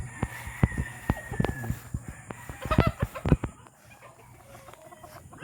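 Chickens at a backyard poultry farm clucking in scattered bursts, with several sharp calls close by and a drawn-out crowing-like cry early on, then quieter in the last seconds.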